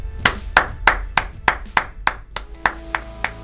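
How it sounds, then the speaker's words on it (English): Eleven sharp claps in a steady, even rhythm, close and distinct with short gaps of quiet between them, and faint tonal ringing after the later claps. "Give yourselves a round of applause"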